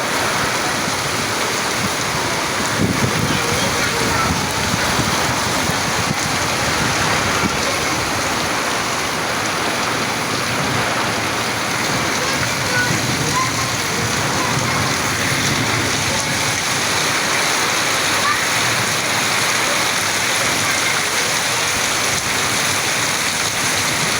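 Heavy rain pours down during a storm with strong wind in Dhaka, a steady, dense hiss that stays constant throughout, with no voices.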